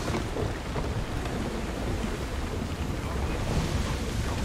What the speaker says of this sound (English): Alaka, would you look at that storm?